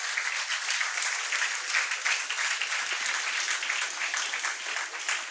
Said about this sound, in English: A round of applause, everybody, for Alokendu